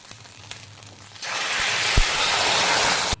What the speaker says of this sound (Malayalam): ഉള്ളി മുളകൊക്കെ മൂത്ത് വന്നിട്ടുണ്ട് ഇനി നമുക്ക് കറിയിലേക്ക് ചേർക്കാം